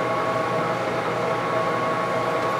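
A Leblond Makino 15-inch by 54-inch servo shift lathe, original and running at 130 RPM, gives off a steady, even mechanical hum and whir with faint tonal lines. It sounds close and continuous, with no break and no voices.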